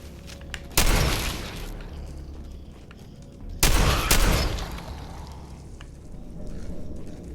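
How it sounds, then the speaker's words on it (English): Shotgun blasts in Fallout 4 combat at close quarters: two loud, sharp booming shots a few seconds apart, each with a short ringing tail, over a low ambient game background. "I'm gonna use the shotgun again."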